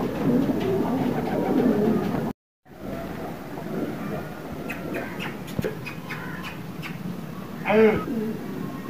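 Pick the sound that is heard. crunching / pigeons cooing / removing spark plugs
pigeons cooing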